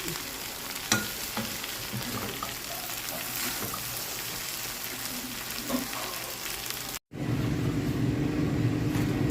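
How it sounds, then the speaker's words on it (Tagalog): Garlic and other ingredients sauté in hot cooking oil for pancit noodles, giving a steady, close sizzle and crackle with occasional stirring scrapes; after a brief cut the frying returns louder and denser. "Magisa tayo ng mga ingredients para sa ating masarap na inisang noodles."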